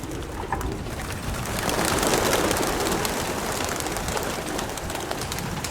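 Racing pigeons fill a loft with a steady, dense murmur of soft cooing and wing rustle, close and continuous throughout with no talking.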